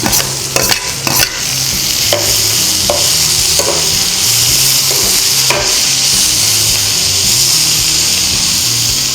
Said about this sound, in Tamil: வெங்காயம் வதங்கிச்சு, தக்காளி நம்ம இதில் சேர்த்துக்கிறேன்.